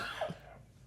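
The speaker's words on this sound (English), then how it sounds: "You're coughing up a fucking storm." A single short cough bursts out in the middle of an online group chat, close to the mic and fairly loud, then fades into a faint background hum with no talking.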